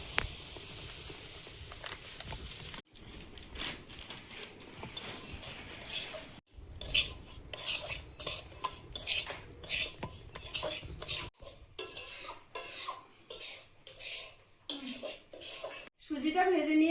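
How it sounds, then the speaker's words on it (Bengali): Semolina is roasted and stirred in a pan on a stove, giving repeated scraping and rattling strokes in bursts broken by abrupt cuts, close by, with some voice sounds in between. "সুজিটা ভেজে নিয়েছি"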